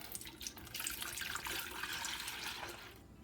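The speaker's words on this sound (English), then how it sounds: "In my pitcher, we're going to add in the tea." Steeped tea pours into a pitcher as a steady liquid splash, a continuous bright watery rush lasting about three seconds with no talking.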